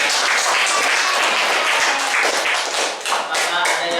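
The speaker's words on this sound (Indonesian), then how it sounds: "Kasih tepuk tangan untuk Julian." A classroom claps for a student named Julian during a lesson: loud, dense, close applause that continues steadily and briefly dips near the end, with some voices mixed into the clapping.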